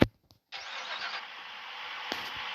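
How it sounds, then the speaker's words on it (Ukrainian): A BMW car engine cranks briefly and catches, then settles into a steady, fairly loud running hum with a small click near the end. "Сідаємо в цю BMW, послухайте, зараз заводимо мотор"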